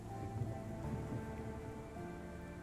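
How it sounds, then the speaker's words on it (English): Night rain in a Sherlock Holmes video game, a soft, steady hiss of rainfall with a faint low background hum, quiet and continuous with no talk. "it's dark and it's raining"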